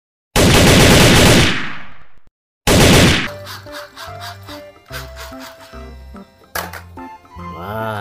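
A toy M16 mini rifle from Pindad fires two loud, long electronic bursts separated by a short gap, followed by quieter rattling and clicking toy sound effects.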